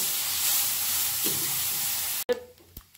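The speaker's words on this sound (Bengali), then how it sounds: "গাজরটাকে এবার খুব ভালো পরিমাণে আমি কড়াইয়ে এপাশ ওপাশ করে নেব, ভেজে নেব।" Carrots for a jaggery carrot halwa sizzle loudly in a wok as they are turned over. The frying hiss is steady, then cuts off abruptly, and faint clatter and stirring follow.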